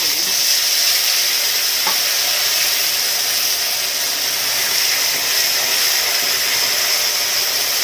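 Ground peanut paste sizzles in hot oil with a bay leaf, giving a loud, continuous frying hiss with one faint clink of a utensil and no talking.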